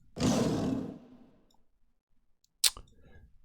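A lion's roar sound effect, a loud, rough burst lasting about a second, fading into quiet before a sharp click near the end.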